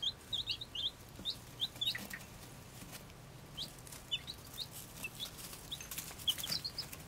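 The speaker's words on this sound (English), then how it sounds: "There's some funky chickens." Baby chicks, Polish chickens among them, peep in small high chirps scattered across a quiet brooder, soft and close, with a faint low hum beneath.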